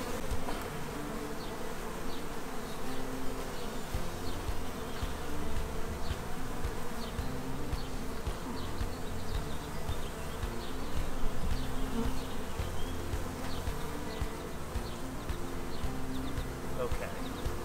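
Honey bees hum in a dense, continuous buzz from an open hive during a frame inspection, close and steady throughout with no clear talk over it.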